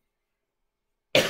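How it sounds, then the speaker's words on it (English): After near silence, one short cough or throat clear bursts out close at the very end. "I really feel like I have to cough"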